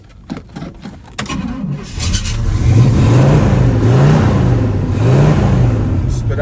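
A 1968 Pontiac Firebird V8 cranks with a few clattering starter bursts, catches, and settles into a loud, rough rumble with rising and falling revs, close up and alone.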